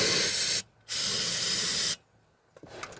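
Two strong hissing bursts of brake cleaner aerosol sprayed onto a hydraulic adapter fitting, the first short and the second longer, then quiet with faint handling clicks.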